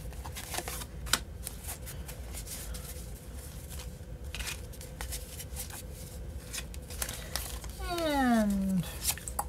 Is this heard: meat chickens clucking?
no